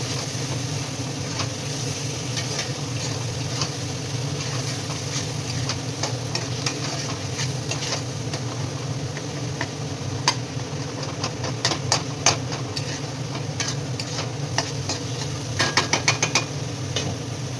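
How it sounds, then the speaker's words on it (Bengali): Food is stirred in a cooking pan in a home kitchen, with a steady sizzling hiss under a low hum and scattered utensil taps and scrapes growing busier near the end. "ভালো করে নাড়াচাড়া করে নিচ্ছি।"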